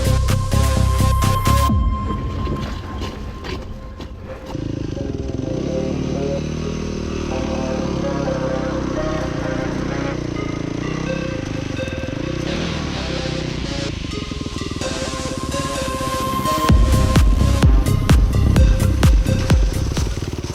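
A motorcycle crosses a steep, loose gravel hillside on a single-track trail, its engine droning loudly and steadily with surging revs and rattling clatter, close to the microphone.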